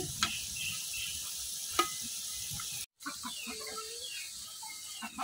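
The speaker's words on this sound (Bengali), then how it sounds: "এই তালের বড়াগুলো কিন্তু আমি উল্টায় পাল্টে দিতেছি।" Palm fruit fritters (taler bora) frying in hot oil as they are flipped, with a steady close sizzle, a few light scrapes and faint bird chirps in the background, broken by one brief moment of silence.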